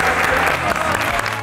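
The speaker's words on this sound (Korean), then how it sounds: "자 오늘 박수 드려" Studio audience applauding at a televised basketball lesson, dense steady clapping from a crowd close by, continuous and loud throughout.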